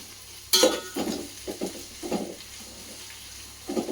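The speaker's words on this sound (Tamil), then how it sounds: "ஆனியன் சேர்த்துட்ட பிறகு பொன்னிறமாக இதை கொஞ்சம் நம்ம வதக்கிக்கலாம்" Onions being sautéed in a pan for Hyderabadi mutton biryani, heard as a burst of scraping and stirring followed by several separate spatula strokes over a faint frying hiss, fairly close, with no talking.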